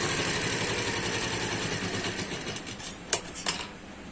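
A sewing machine runs steadily, stitching a lower seam along a suit sleeve, its fast even whir continuous and close before easing near the end, where a couple of sharp clicks punctuate the motor.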